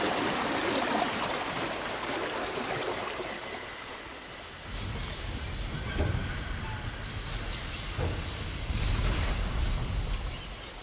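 Water rushing and flowing steadily as a lock gate opens at Barrockstadt in the Syberia adventure game, a broad continuous wash with low surging swells throughout.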